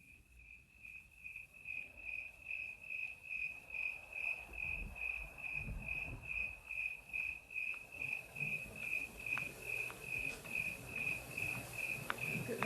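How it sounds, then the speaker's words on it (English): Crickets chirp at dawn in the Grand Canyon in a steady, pulsing trill, soft and continuous, over a quiet outdoor background. "the eternal canyon crickets sound their quiet song to the morning sun"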